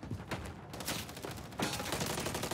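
Gunfire in Call of Duty Modern Warfare 3 (2023), a dense steady stream of rapid shots with a fresh burst partway through, loud and continuous, with no talk.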